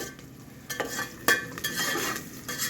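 Onions and curry leaves fry in a pan with a soft crackling sizzle, punctuated by several sharp spatula scrapes and clicks against the metal, close up with no talking.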